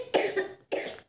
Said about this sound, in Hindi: खांसी तो आती रहती है।